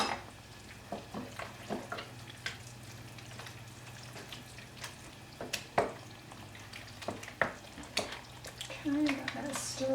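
A spoon stirs canned tuna into a macaroni casserole in a home kitchen, with soft repeated scrapes and clinks against the pot and bowl in an irregular rhythm. The sounds are quiet and close, and a voice is faintly heard.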